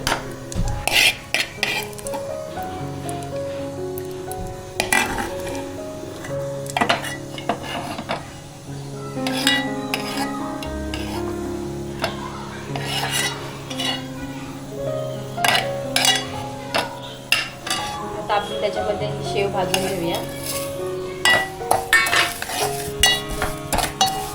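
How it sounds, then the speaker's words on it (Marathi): Dry fruits roasting in oil in a pan: a spoon stirs, scrapes and clinks against the metal almost continuously, loud and close, with only a faint sizzle underneath. "ड्रायफ्रूट चांगले आपण तेलामध्ये भाजून घेऊया"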